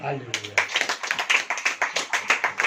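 A church congregation clapping during a Hindi sermon, a steady run of sharp, evenly spaced claps after a brief spoken moment at the start, moderately near and fairly quiet.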